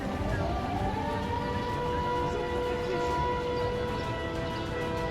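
Air raid siren wailing across a Ukrainian city, a steady sustained tone with a slow rising sweep, continuous and fairly loud over a dense rumbling background.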